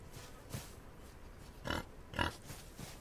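A pig in the Outlaws of the Old West game gives a few short grunting oinks over a low ambient hiss, two louder snorts close together in the middle and fainter ones around them.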